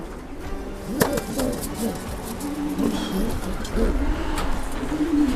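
Racing pigeon cooing in a loft, soft repeated throaty coos layered with other birds' murmurs and faint rustling, close and continuous.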